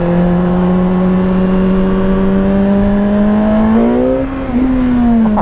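A 2017 Suzuki GSX-R 1000 motorcycle pulls away with a loud, steady engine drone close by, its pitch climbing smoothly, then dipping briefly at a gear change before rising again.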